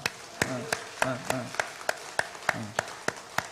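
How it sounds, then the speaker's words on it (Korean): Congregation at a church morning service clapping together in a steady, rhythmic beat of about a dozen sharp claps, with a voice carrying on underneath. "우리 박수 한번 하겠습니다."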